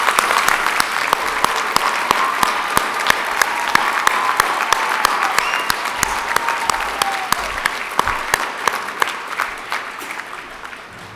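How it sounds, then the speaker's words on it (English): A large graduation ceremony audience gives sustained applause for newly conferred graduates, a loud, dense roar of many hands with sharp individual claps standing out, easing slightly toward the end. "We have a round of applause for the recently conferred graduates."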